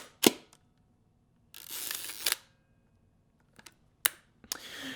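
Hasselblad 500C/M medium-format film camera being cranked and fired: a sharp shutter clack, a longer ratcheting wind of the crank, then several crisp mechanical clicks, close and isolated in a quiet room.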